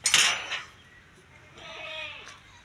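A goat on a farm in Vehari gives a sharp, loud bleat up close at the start, followed by a fainter, wavering second bleat from another animal amid light farm background noise.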